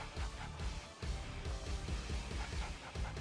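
Attack dogs in the Red Alert 2: Yuri's Revenge strategy game bark in quick, repeated bursts over a steady low rumble of battle noise, loud and close throughout.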